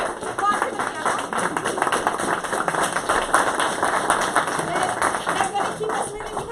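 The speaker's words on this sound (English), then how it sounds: "Applause for the panel." An audience applauds a panel at a District 5 supervisor candidate forum held by a bicycle coalition in San Francisco, with sustained, even clapping throughout and a voice talking over it.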